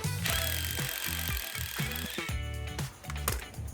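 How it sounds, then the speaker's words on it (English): A power drill bores through a broken screw head in a basement, its motor whining steadily and pulsing as it bites, close and loud with a gritty mechanical rattle throughout. "You can just drill right through it and make your hole a little bit bigger."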